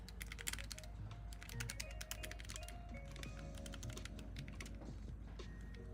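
Steady, fast typing on an XYZ Workboard computer keyboard, a dense run of close, crisp key clicks over a constant low hum, no talking.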